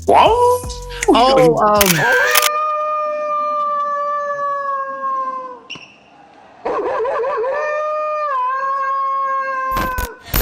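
A voice imitates a wolf howl, a UFC fighter's signature Wolfman call, with long, sustained, wavering tones. Two drawn-out howls are separated by a short pause, with brief noisy bursts around them.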